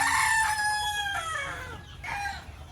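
A White Kelso rooster crows once, a drawn-out call fading at the end, heard fairly close with a faint hum of background noise.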